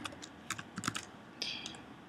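Keys tapped on a computer keyboard as a search term is entered, a quick irregular run of close, light clicks with a brief denser burst near the end, no voices.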